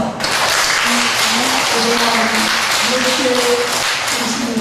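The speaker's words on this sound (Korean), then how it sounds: "우리 큰 박수 한번 하겠습니다." Church congregation at a Sunday service breaking into loud, sustained applause that fills the room for several seconds, with a voice speaking over the clapping.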